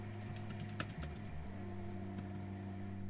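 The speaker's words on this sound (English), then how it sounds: "do consider the Logitech K380. So this is a much more low-profile keyboard." Typing on a Logitech K380, a thin low-profile keyboard with scooped scissor keys, gives a steady run of soft, quiet keystrokes with a few sharper clicks near the start, heard alone.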